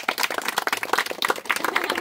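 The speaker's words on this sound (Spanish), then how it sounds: "Un aplauso para los papás." An audience gives dense, steady applause for the parents at a lively crowd gathering, many hands clapping at once with no clear pauses, fairly close and unbroken for about two seconds.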